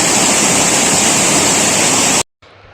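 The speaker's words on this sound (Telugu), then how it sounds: "ఈ వాటర్ వచ్చేసి కొండ మీద నుంచి జారి పడుతున్న వాటర్ అన్నమాట" Loud, continuous hiss of water sliding and falling down a rocky hill at Chaparai near Araku, close and without voices, ending in a sudden cut to near silence.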